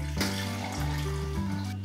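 Water pours steadily into a coffee brewer in a home kitchen during a morning routine, a continuous close splashing stream with shifting pitch as the vessel fills.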